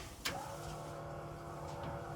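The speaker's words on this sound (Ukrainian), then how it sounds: "І так, слухаємо роботу склоочисника." Windshield wiper motor on a UAZ 2206 van, running steadily as a low continuous electric hum with a faint whine, preceded by a brief click near the start, close and fairly quiet.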